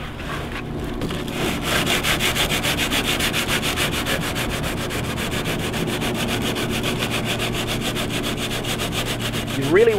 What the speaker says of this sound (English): So I've got some 100 grit sandpaper, 150, anything like that'll work.